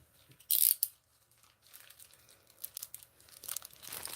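Scissors snipping the plastic ends off a piping bag filled with soap batter, a sharp crinkling cut near the start followed by softer plastic rustling and a second crisp snip near the end, close and fairly quiet.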